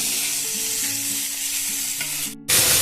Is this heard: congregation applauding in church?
no